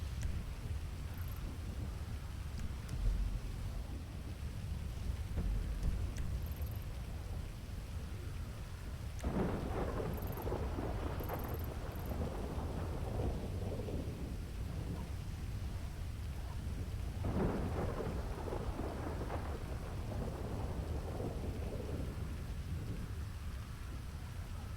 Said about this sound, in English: It's going to be a storm.